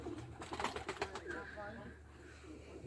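A young pigeon chick makes soft, close, fluttering begging calls that rise and fade over a few seconds, joined briefly by a higher squeaky note, with quiet background noise.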